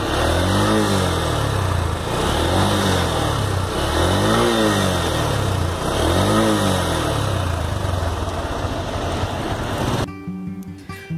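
Honda Hornet 160R motorcycle exhaust revving in repeated rising and falling throttle blips, loud and close, before cutting to quieter idling at the end.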